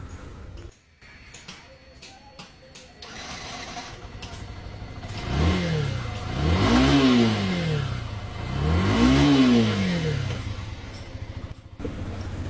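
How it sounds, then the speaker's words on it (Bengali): A Yamaha Fazer motorcycle engine fires up in a workshop after a full engine tune, idling with light ticking before two strong, rising revs that swell and fall back, close and loud. "এখন আমরা ইঞ্জিনটি স্টার্ট দিব এবং আপনাদের সাউন্ডটি শোনাবো।"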